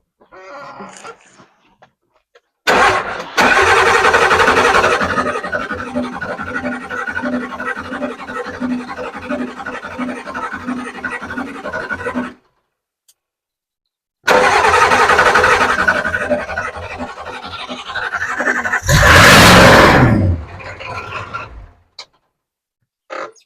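A 1986 7.3 IDI diesel with a straight-pipe exhaust cranks and fires, running loud and rough with a clattering idle, stops, then restarts and revs in a brief harsh surge before cutting off.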